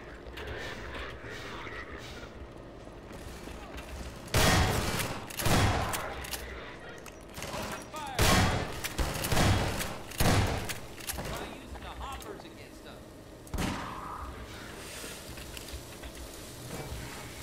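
Bursts of rapid gunfire in Half-Life 2 erupt repeatedly over a steady background of game noise and mechanical clatter.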